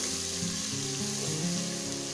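Ginger-garlic paste frying in oil in a pan for white chana pulao, with a continuous close sizzle and faint sounds of mixing and no talking.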